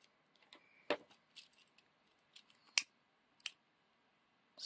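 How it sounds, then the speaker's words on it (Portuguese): Scissors snip a short piece of gold crochet thread, a few crisp separate cuts with quiet pauses between them, close and alone. "Vou cortar um pedacinho de fio"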